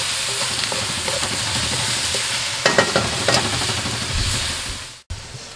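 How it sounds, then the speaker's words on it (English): Onion sizzles in a Kadai firebowl on a Kamado Joe Big Joe 3 while being stirred, a dense steady frying hiss with a few scraping stir strokes near the end and no talking. "we want to stir this and sweat down the onion for about 4 minutes"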